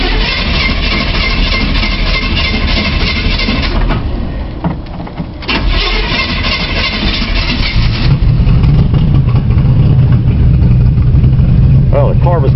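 Car engine with a 2.5-inch exhaust and Walker muffler runs continuously, starting cold on a chilly morning, a steady low rumble with a revving surge mid-clip and a deeper, louder idle toward the end.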